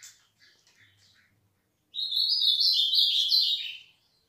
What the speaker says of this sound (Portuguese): E o azulão tá assim, ó, cantando bem.